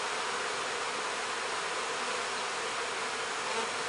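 Steady, dense buzzing of a mass of honeybees from a package installed into a new backyard hive, a close, continuous drone with no talk over it.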